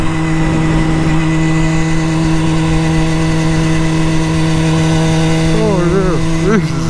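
Motorcycle engine running steadily while riding on a pleasant day, a continuous loud drone with a steady low hum and a brief pitch wobble near the end.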